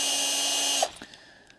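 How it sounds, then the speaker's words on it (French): An AEG 12V BBS 12C2 compact drill-driver whirs at full speed in its second gear, a steady high whine that cuts off abruptly and spins down with a few faint clicks. "c'est une perceuse visseuse qui peut aller jusqu'à 1500 tours minute en vitesse 2"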